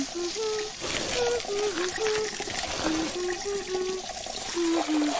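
Water trickling slowly from a tap in an animated cartoon during a household water shortage. A thin, steady dribble runs throughout under voices or melodic sounds.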